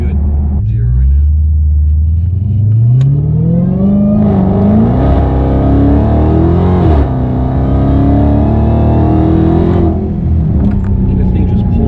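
A Chrysler Hellcat's engine roars loud and close, revving up in a rising climb, easing back briefly, then pulling hard again in a long sustained acceleration with steady harmonics throughout.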